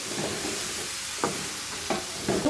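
Corn masala being stirred in a pan with coriander, a few distinct spatula scrapes over a faint steady sizzle, close and moderately quiet with no talking.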